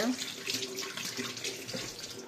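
Tap water runs steadily while hands are washed after squeezing tamarind, a continuous splashing stream at close range with faint kitchen background.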